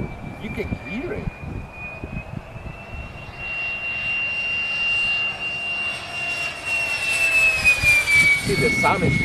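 A Saab Gripen jet fighter passes overhead, heard as a loud, sustained jet engine roar with a rising whine and broadband rush that swells toward the end, with people talking over it.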